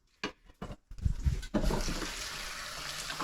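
Two large jalapeños rinsed under a running faucet, water splashing steadily against the peppers and sink for a few seconds after brief handling noises.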